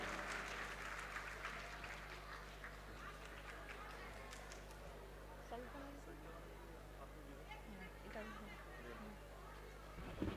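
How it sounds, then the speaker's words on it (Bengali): Crowd applause at a school annual festival felicitation ceremony, a sustained wash of clapping across the room mixed with voices and chatter, with a low electrical hum beneath. "একটা জোরে করতালি ওনার জন্যে।"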